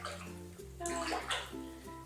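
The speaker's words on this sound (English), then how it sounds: "So we'll just use this dirty water again because it's literally just going to be wetter." A makeup brush is swished and washed in dirty water, giving splashy, sloshing watery sounds with sustained tonal hum beneath, heard close and without talk.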